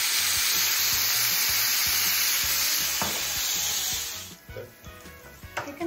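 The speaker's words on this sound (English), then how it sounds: "keep cooking your onions. You can add a little bit more soy sauce." Onions frying in a pan with soy sauce sizzle loudly and steadily, close by, with rhythmic stirring scrapes, before the sizzle drops away to softer clinks near the end.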